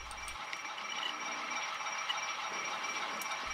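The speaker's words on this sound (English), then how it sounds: "As we can see by this footage, the locomotive was a very timid runner out of the box." A Bachmann D&H RF-16 Shark model locomotive runs along its track with a steady faint whirring hum and light rattling, continuous and even for a few seconds.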